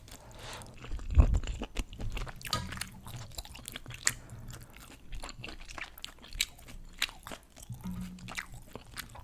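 Close, quiet eating of spicy malatang soup with beef, with repeated crunchy bites and soft wet chewing and squishing in an irregular rhythm, no talking.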